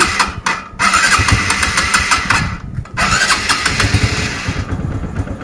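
A used motorcycle engine cranks and fires up, then settles into a steady, fairly loud idle close by, with short dips where it sputters before running on.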